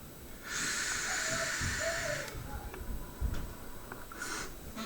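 A Smok TFV4 Mini atomizer vaping at 70 watts gives a steady airy hiss for nearly two seconds with faint crackles, followed by quieter breathing, clicks and a short second hiss.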